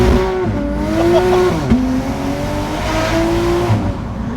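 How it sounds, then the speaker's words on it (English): Top-mount turbo Toyota A90 Supra driving, its brakes squealing in drawn-out high tones over a steady engine drone, close and loud, with a sharp click partway through and no talking. "And the very squeaky brakes."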